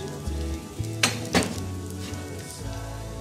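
Pistachios, dry dates, almonds, cashews, coconut powder, sugar and turmeric roasting in a pan for golden milk, with a steady low sizzle, a couple of brief louder scrapes from stirring, and faint clinks of a spoon against metal.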